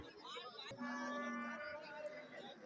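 A cow at a cattle market in Tamil Nadu lets out one long, close moo lasting nearly a second, with faint market chatter in the background.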